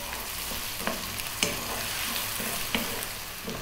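Potatoes for an Indian restaurant-style vegetable curry sizzle and fry in a pan, a constant crackling hiss broken by occasional scraping knocks as they are stirred, close up with no talking.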